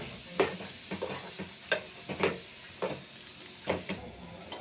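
Eggplant pieces fry in hot oil in a pan for a Marathi spicy eggplant dish, a soft sizzle broken by repeated scraping stirs at a slow, uneven rhythm, close and fairly quiet.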